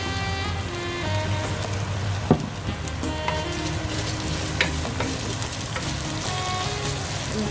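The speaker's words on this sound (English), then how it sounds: "So go ahead cooking garlic and lemongrass and ginger all together." Garlic, lemongrass and ginger frying together in hot oil make a dense, steady sizzle up close, broken by a few sharp spatula taps and scrapes, with no talking.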